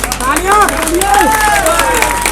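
A large crowd at a rally in Hathras claps under loud cheering and shrill whoops and whistles that rise and fall across the whole stretch, steady and dense.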